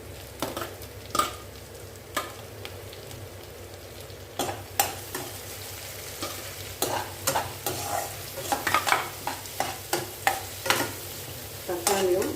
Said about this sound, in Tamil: இப்போ வெங்காயம் வதங்கிருக்கு இப்போ நம்ம தக்காளி சேர்த்துக்கலாம்